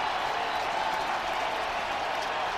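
A stadium crowd roars continuously at a Jaguars–Titans NFL game in 2018, a dense, loud wall of cheering and applause with no pause.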